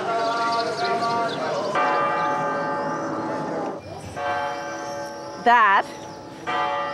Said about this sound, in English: It's the bell tower in Dubrovnik, and it chimes on the hour.